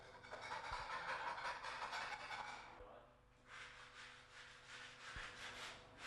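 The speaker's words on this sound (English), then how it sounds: "Remove any loose flaking paint with a scraper." Steady rasping scrape of a hand scraper stripping loose, flaking paint from previously painted timber, continuous strokes with a brief pause midway, close and moderately loud.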